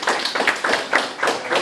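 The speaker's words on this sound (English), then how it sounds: "A round of applause for them." An audience at a CyberOU hacker culture talk applauds, a burst of dense clapping that swells and pulses steadily for over a second, close and fairly loud with no voices on top.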